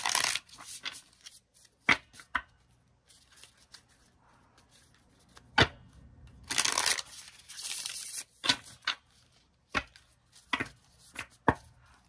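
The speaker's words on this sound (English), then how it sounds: "Cards seem to be ready because I always do a pre-shuffle beforehand." Tarot cards are shuffled by hand in a series of sharp riffling bursts and soft slaps, some rapid and clustered, others single flicks, close and fairly loud in a quiet room.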